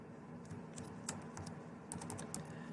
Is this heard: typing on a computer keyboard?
yes